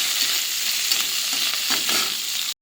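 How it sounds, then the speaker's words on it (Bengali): Onions fry in hot oil with black cumin seeds, giving a loud, continuous close sizzle that cuts off abruptly near the end. "পেঁয়াজটা দিয়ে দিয়েছি। এবারে ভাজা ভাজা করে নেব।"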